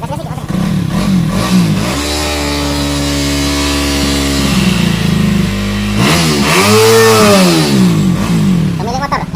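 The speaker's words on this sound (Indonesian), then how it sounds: "saya akan coba untuk menyalakan motor ini dengan starter" A Yamaha Vixion motorcycle fires up on its electric starter and settles into a loud, close idle, then revs up and down sharply before idling again.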